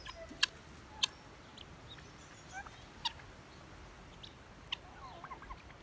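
Several short, sharp calls from chickens, including normal-sized birds and bluebells, sound at a distance over a steady outdoor hiss on a smallholding, a handful of separate bursts spread across the stretch with no talking.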